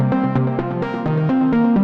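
Randomly generated synth notes from a Bitwig Note Grid dice module, quantized to a scale: a quick run of short, buzzy tones hopping between pitches at a steady, rapid pulse, close and continuous with no voice.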